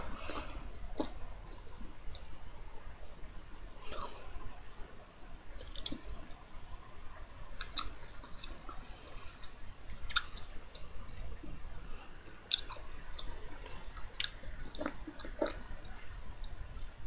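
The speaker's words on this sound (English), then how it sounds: "Let's try to blow a gum bubble," Gum being chewed close up, with soft wet smacking and squishing sounds and occasional sharp little pops spread across the stretch, in a quiet room with no talking.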